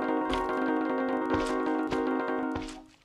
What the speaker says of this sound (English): how to build this horn sound effect for your trains right here